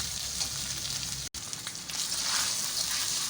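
Ginger and garlic frying in hot mustard oil for beef achaar gosht, a steady close crackling sizzle with a brief cut partway, then continuing and slightly intensifying.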